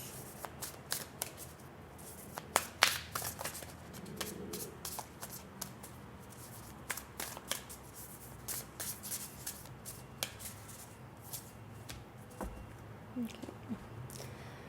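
A Rooted Women Oracle card deck is shuffled up close, giving soft repeated riffles and papery slaps in uneven bursts over a quiet room.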